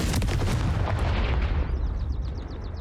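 A Confringo spell explodes in Hogwarts Legacy, landing as a loud, booming blast with a rumbling tail that fades over a couple of seconds.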